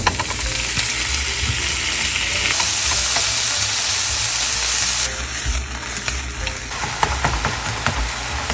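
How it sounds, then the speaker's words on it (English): Half a pound of ground beef sizzles and fries steadily in a hot pan with garlic, a dense continuous crackle that stays loud throughout with occasional stirring. "Finally, we're gonna add half a pound of ground beef."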